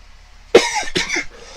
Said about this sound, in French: Là je tousse, vous voyez